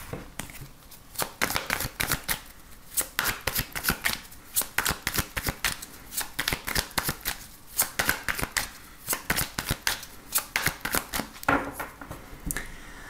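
Tarot cards being shuffled by hand produce a long run of crisp, close riffling bursts in an uneven rhythm, each a quick papery flutter with brief pauses between, heard alone in a quiet room.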